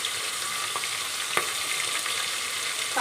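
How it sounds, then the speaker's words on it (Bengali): Green chillies and onion fry in a pressure cooker for chicken curry, giving a steady, close sizzling hiss with a couple of light stirring taps and no talk. "কাঁচা লঙ্কা পেঁয়াজটা দিয়ে দিলাম। এবার ভালো করে লাল করে গোল্ডেন ব্রাউন করে ফ্রাই করবো"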